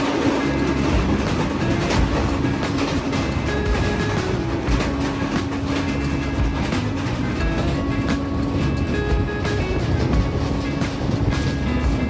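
Patna–Ernakulam SF Express (22644) in motion, a steady loud rumble of wheels and carriage with faint rhythmic clatter running continuously throughout, no voices.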